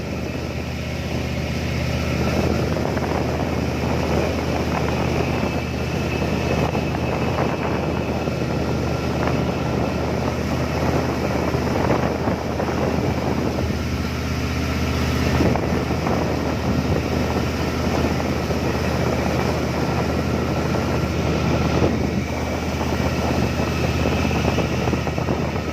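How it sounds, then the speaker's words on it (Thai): Steady wind noise buffets the microphone at the mouth of Pattani Bay in the Gulf of Thailand, with a constant low rumble of tugboat and boat engines running underneath throughout. "บรรยากาศปากอ่าวปัตตานี"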